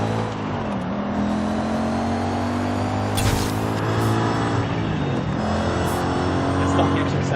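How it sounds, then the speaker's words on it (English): Engine of a stock Audi RS 6 in the racing game Forza Horizon 5, revving up and down through gear changes with a steady loud drone and brief rises, close and continuous. "The stock engine sounds really well. It sounds really good."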